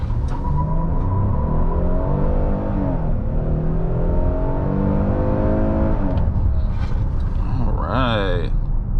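A 2021 Hyundai Palisade accelerates hard with traction control switched off, its engine droning loudly and steadily climbing in pitch over several seconds before a quick shift and a renewed rise, heard from inside the cabin.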